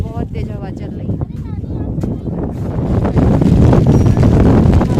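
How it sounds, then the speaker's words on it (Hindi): Strong wind gusting at Rohtang Pass in the mountains under dark clouds, loud buffeting across the microphone that swells toward the end, with a person speaking over it early on. "बहुत तेज हवा चल रही है।"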